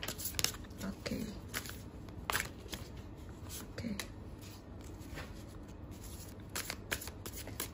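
Tarot cards are shuffled close by, with repeated soft riffling and slapping bursts in an uneven rhythm, and quiet talk now and then between them.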